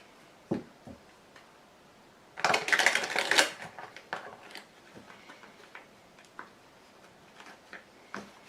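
Tarot cards being shuffled and laid down, a burst of rapid riffling flutter followed by scattered light taps and clicks as cards land, close and quiet.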